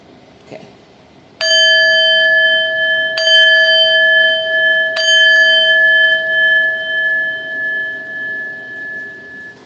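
Three struck chimes ring out in succession, each bright metallic tone sustaining and layering over the previous one, then decaying slowly; close and clear with no talking, used to close a night-time protection session with black obsidian.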